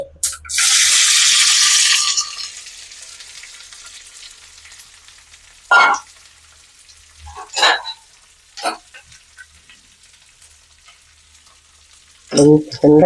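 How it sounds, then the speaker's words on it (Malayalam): Okra dropped into hot onion-infused oil with curry leaves bursts into a loud sizzle for a second or two, followed by quieter frying and several sharp scraping stirs of a spoon against the pan. "അതിന് ശേഷം വെണ്ടക്ക ഇടുകയാണ് ഉള്ളിച്ചെണ്ണയിൽ"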